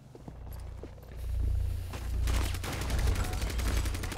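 Gunfire in the tactical shooter game Rainbow Six Siege: a dense spread of sharp cracks and rapid shots, loud and continuous across the whole span with a low rumbling bed underneath.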